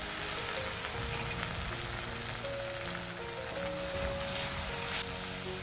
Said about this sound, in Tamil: நான் சின்ன வெங்காயம் போடுறேன். இதை நல்லா வதக்கி விட்டுடலாம்.